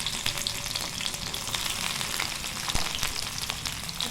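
Dried fish frying in a pan with garlic and onion, a steady close hiss and crackle running unbroken with a few brief sharp pops.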